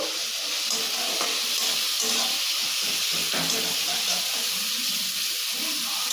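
Ground spice paste sizzling and frying in a pan with tomato as it cooks down, a steady hissing crackle with faint stirring scrapes, continuous and fairly loud throughout.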